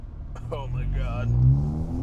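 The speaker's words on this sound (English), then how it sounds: "when I want to drive it fast, I have no problem rev matching." A car engine revs up and down with rev matching during fast driving, loud and continuous with the engine's rise and fall, and a voice speaking over it.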